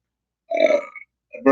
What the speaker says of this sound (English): Burps.